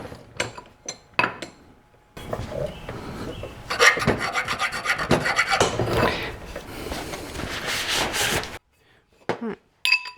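Metal bars for an engine test stand are filed clean by hand: quiet, rasping strokes, a few isolated scrapes first, then a run of steady back-and-forth filing before a few last scrapes.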